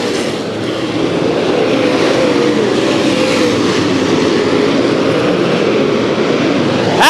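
Late model race cars circle Bakersfield Speedway in a continuous, loud broadband roar of several engines at once, steady throughout with no clear gaps and no voices.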